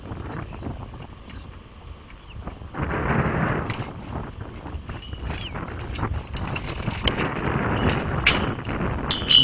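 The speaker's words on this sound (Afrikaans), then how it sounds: "Baie lekker wind." Strong wind roars steadily around a windpump outdoors, a broad, gusty rush with clanks and knocks scattered through it and no talking.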